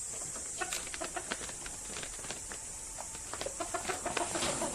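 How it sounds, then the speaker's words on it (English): A chicken clucks in an animal-keeping setting, giving a series of short, sharp clucks and calls at irregular moments over quiet background noise, fairly close by. "Chicken."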